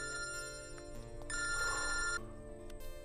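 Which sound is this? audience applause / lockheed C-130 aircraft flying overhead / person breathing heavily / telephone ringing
telephone ringing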